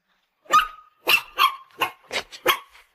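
A puppy barks out in short, sharp yaps, about seven of them in an uneven series, close and fairly loud, brought in from heavy rain, with no talk over it.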